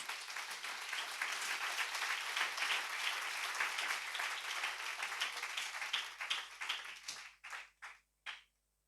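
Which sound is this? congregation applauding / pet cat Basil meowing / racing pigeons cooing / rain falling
congregation applauding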